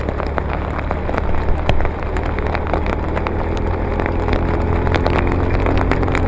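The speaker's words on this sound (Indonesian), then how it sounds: "Tapi saya suka sih kalau hujan begini" Steady rain pours and patters close by on a town street, with scattered sharp drops tapping on a surface and a low engine rumble underneath.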